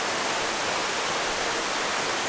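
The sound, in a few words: waterfall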